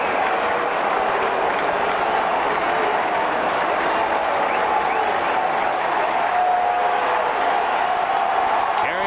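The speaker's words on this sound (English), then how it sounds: "Crowd hollering the 2-2." A baseball crowd at a Cubs-Reds game cheers and hollers on a two-strike, two-ball count, a loud, dense, continuous roar of voices and clapping filling the stadium for several seconds.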